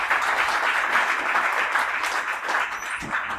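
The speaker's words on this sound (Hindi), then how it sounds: "मैं चाहूंगा इनके लिए जोरदार तालियां" Loud applause from the audience at a product training program, a thick, continuous roll of clapping hands lasting the whole stretch, close and steady, with a slight easing near the end.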